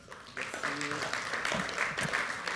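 Audience applause at a French start-up pitch conference plenary, a steady crowd of clapping that builds in after a moment and carries on at moderate level, with a voice speaking over it.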